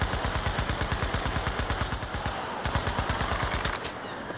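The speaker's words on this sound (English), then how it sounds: "my only issue with the MP40 is the fact that it is such a slow firing submachine gun" An MP40 submachine gun fires in Battlefield 5 in rapid, evenly spaced automatic bursts. The shots are loud and close, with a short pause before a final string of rounds.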